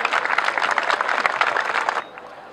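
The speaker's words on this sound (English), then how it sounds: "May we have a little polite applause for Her Royal Highness" Polite applause from an audience at the official opening of Lincoln Castle for Princess Anne, steady dense clapping from a crowd that stops abruptly near the end.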